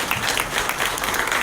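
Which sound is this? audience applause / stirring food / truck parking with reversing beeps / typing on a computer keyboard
audience applause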